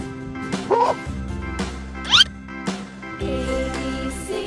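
A cartoonish dog barks a few times for an alphabet lesson, short yips and bow-wows spaced across a light musical backing, close and clear.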